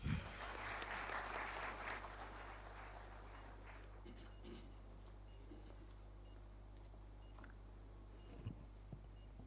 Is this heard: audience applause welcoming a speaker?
yes